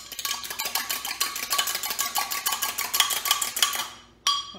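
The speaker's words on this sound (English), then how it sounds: "we're just going to whisk that up a little bit using a fork" A fork whisks milk and egg in a jug, quick rhythmic clinking strokes against the sides repeating steadily for several seconds, a brief pause, then one more scrape.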